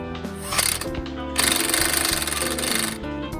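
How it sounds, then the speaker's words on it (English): Impact gun tightening the rear wheel hub nut on a 2011 Nissan Note, with a short rattling burst followed by a longer, loud hammering buzz up close that stops abruptly. "Nut back. Tighten with the gun."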